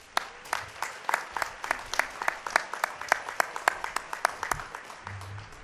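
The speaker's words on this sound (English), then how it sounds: "Please join me in a round of applause for the leadership of Central Washington University." Audience applause at a university commencement ceremony, many hands clapping in a steady patter of overlapping claps that continues evenly throughout at moderate loudness.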